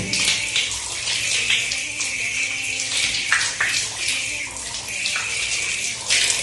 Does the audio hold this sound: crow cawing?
no